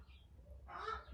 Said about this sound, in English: Please excuse the noise, the birds.